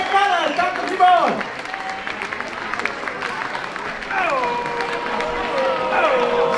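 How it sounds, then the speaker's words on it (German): A crowd at a Guggenmusik carnival-band stage festival applauds and cheers steadily. Voices and tonal, voice-like sounds rise over the clapping partway through. "dann noch einen riesen Applaus, der Mia Küchengruppe von St. Gallen"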